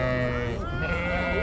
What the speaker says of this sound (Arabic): سوق غنم كركوك